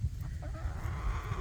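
Americana chickens about twelve weeks old clucking softly at close range, low murmuring fowl sounds over a faint background.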